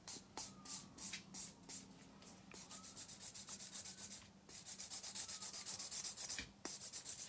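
Rhythmic rasping strokes of a nail file shaping a nail extension, quiet and close, in short repeated bursts with brief pauses and no talking.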